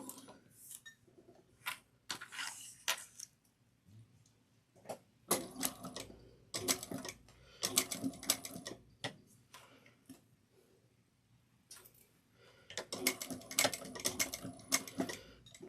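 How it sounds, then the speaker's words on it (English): A sewing machine stitching a zipper pouch runs in short bursts of fast, rapid ticking, close and fairly quiet, with pauses between each run and no voices. "So let's take it over to the sewing machine and get them sewn."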